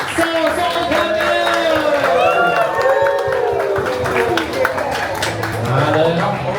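A crowd applauds and cheers loudly over music, with a voice calling out over the noise.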